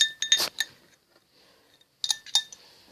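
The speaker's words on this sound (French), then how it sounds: "Je vais mélanger." A metal spoon clinks against a glass while stirring a smoothie, in two quick bursts of bright tinkling with a quiet pause between them and no talking.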